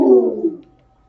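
A single owl-like hoot sounds close and clear, fading away within about half a second, followed by quiet.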